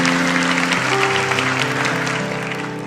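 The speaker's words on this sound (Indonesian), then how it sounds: "Kasih tepuk tangan untuk Tuhan." A church congregation claps loudly and steadily for a few seconds during a sermon, with music sustaining underneath and the applause slowly fading.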